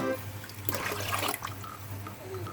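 Water runs into a pot, three litres for a pork offal soup, with a close, bright splashing pour that peaks in the middle and then eases to a softer trickle.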